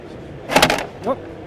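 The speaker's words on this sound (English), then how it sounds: "The slide-out drawer right here." Underseat slide-out drawer on a Native Watercraft Titan X fishing kayak, a prototype part needing grease, being pulled, giving a brief broadband scraping slide followed by a short squeak, close and fairly loud.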